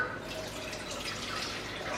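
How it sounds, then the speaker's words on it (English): Chicken broth pouring into a cooking pot, a continuous splashing liquid stream heard up close for about two seconds. "2 cups of chicken broth. We're gonna pour that into the pot."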